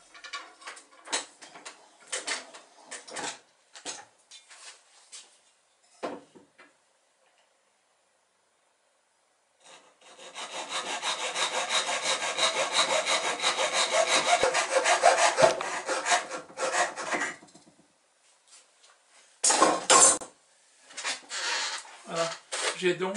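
A saw cuts wood while a toy sailboat is being built. Scattered scraping and tapping come first, then a long run of close, continuous rasping strokes, and finally a few short, sharp sawing bursts.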